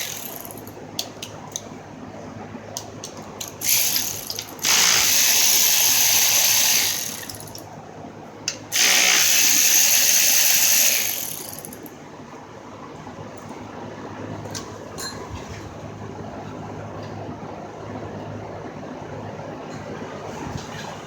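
Ratchet wrench loosening bolts on the lower intake of an Acura CL 3.2 engine during teardown: two long, loud bursts of rapid clicking, close up, separated by a short pause and followed by faint handling noises.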